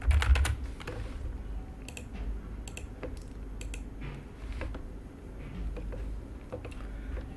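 Typing on a computer keyboard while naming a new fragment in an Android project, a quick flurry of clicks at first followed by sparse, scattered key taps at close range against quiet room noise.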